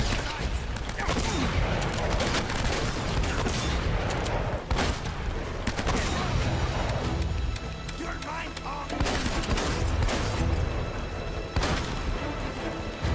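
Gunfight in the video game Uncharted, sustained loud volleys of gunfire and impacts that run almost without pause, dense and close.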